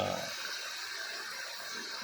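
Water pours steadily into a crayfish pond, making a continuous, fairly faint rushing splash with no break.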